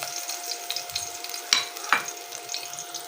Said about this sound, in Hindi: अब तेल गरम हो गया ना, तो लहसुन डाल देंगे ताकि इसका बघार बन जाए।